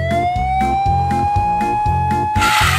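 A toy police car siren wails loudly and steadily over a repeating electronic beat, close and continuous for a few seconds.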